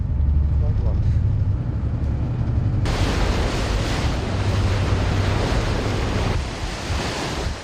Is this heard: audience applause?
no